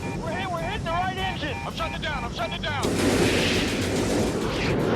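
Machine gun fire raking a fighter jet during an aerial dogfight in the film Top Gun, a dense, loud roaring burst that erupts midway and continues to the end, following a stretch of voice talking.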